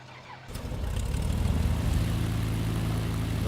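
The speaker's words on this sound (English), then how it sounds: "right engine is now started and running" The right engine of a propeller aircraft in Microsoft Flight Simulator 2020 starts up, a quiet hum swelling within a second into a loud, steady, throbbing drone that continues unbroken.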